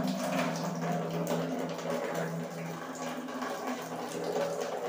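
Water running steadily from a tap heated by a geyser, a continuous splashing hiss with a low hum underneath, close and even throughout.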